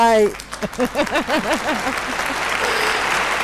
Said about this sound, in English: Let's give you applause.